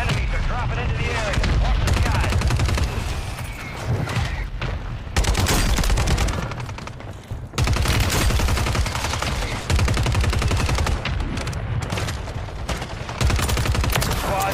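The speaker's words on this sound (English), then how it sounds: "Friendly mortar strike on the way." Heavy gunfire and blasts from Call of Duty Warzone, sustained dense bursts of shots and booming impacts that fill the scene nearly throughout, briefly dropping off before resuming loud and close, with voices faintly mixed in.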